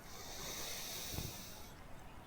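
A single soft, breathy inhale during a yoga breathing exercise in an asana class, close and hissy, lasting about two seconds with no talking.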